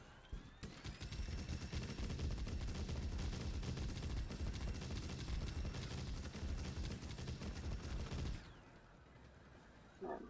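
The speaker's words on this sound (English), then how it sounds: "let's see how that chain gun works" A Robocraft chain gun fires in a long, loud, rapid stream of shots for about eight seconds before stopping abruptly, with the mechanical whine of the game robot continuing faintly after.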